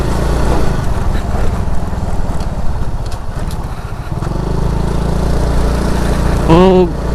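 Suzuki Raider J 115 Fi motorcycle running without its box, a loud steady engine drone with a dense low pulse throughout, wavering slightly midway, with a brief rising whine near the end.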